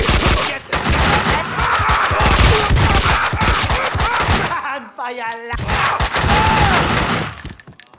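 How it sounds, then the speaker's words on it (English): Heavy gunfire in the video game Max Payne 2, rapid bursts and fusillades blasting almost continuously, with a brief lull mid-way before more shots resume, loud and close. "Someone must have heard the gunfire."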